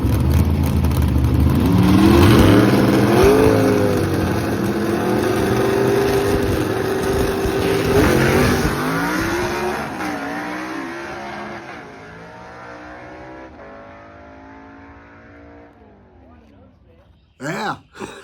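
A Chevy II gasser roars hard off the line in first-round drag racing eliminations, loud engine revving and shifting through gears, then fading into the distance as it runs down the strip, ending with a few close knocks.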